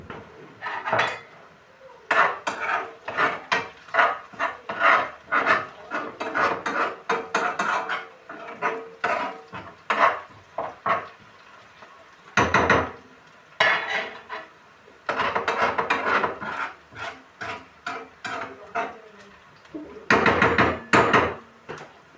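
Dishes, pots and cutlery are washed by hand, with dense, close clattering of metal and ceramic knocking together in rapid bursts, interrupted by a few short pauses.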